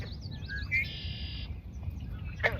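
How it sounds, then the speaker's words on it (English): Red-winged blackbirds call in a summer marsh, a few short whistled and buzzy notes at moderate distance over a low background rumble. "There's Red-Winged Blackbirds,"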